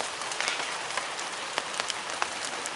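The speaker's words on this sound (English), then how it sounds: "now the rain is coming much heavier. You can hear it now." Heavy rain pours down steadily across a cricket ground during a grade match, a dense continuous hiss with scattered sharper drop impacts, loud and close, with no voices.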